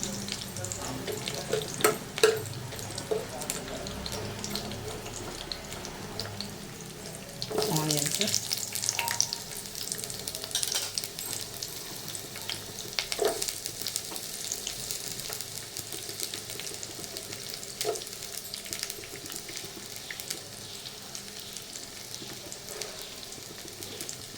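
Green chillies fry quietly in a pan for a brinjal curry, a faint steady sizzle with scattered stirring clicks and a brief louder burst partway through.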